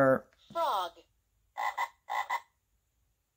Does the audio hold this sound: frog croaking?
yes